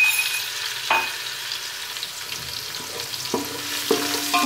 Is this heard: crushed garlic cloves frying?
yes